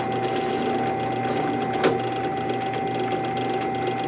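An 8-flute no-chatter chamfer bit cleans up the lanyard holes in a knife handle, giving a steady, even machine whine with a faint brief tick partway through.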